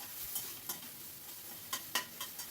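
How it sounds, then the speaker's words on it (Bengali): Onions with ginger-garlic paste frying in a pan, a steady low sizzle punctuated by several sharp spatula scrapes and clinks as the mixture is stirred, close and without talk. "এবারে আমি এর ভেতর দিয়ে দিচ্ছি 1 টেবিল চামচ মতো আদা রসুন বাটা, দিয়ে আবারও এটাকে ভালো করে ফ্রাই করে নেব"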